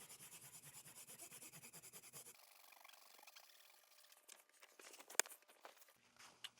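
Quick back-and-forth scrubbing of Nintendo NES game cartridge pins with a tiny piece of quadruple-zero steel wool soaked in alcohol, soft rhythmic rasping for about two seconds, then quieter handling, rustles and a sharp click.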